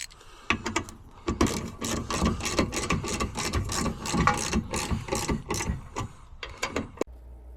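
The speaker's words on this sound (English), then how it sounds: "you just go along and tighten up all the bolts" A ratchet wrench tightening bolts on a Vevor bed rack fitted to a Jeep Gladiator, clicking in rapid, steady strokes for several seconds with short pauses, close and fairly loud.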